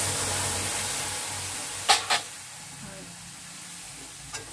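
Milk goes into a pan of lightly fried semolina, and a soft steady sizzle follows with a few brief sharp bursts as it is stirred, close and moderately loud.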